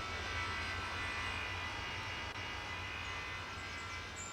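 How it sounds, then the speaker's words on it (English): A jet takes off at Bermuda airport in the air traffic control game Tower! Simulator 3, giving a steady, moderately quiet engine roar with broad hiss and a low rumble, unchanging throughout. "And now we're following that jet"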